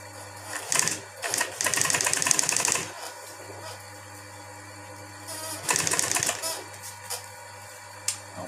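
An upholstery sewing machine stitches an armrest cover in two bursts of fast mechanical clatter separated by a quieter pause, over a low steady hum, with a short click at the end.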